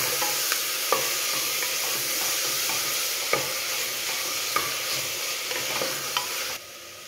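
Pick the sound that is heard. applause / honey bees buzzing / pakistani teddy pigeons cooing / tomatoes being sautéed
tomatoes being sautéed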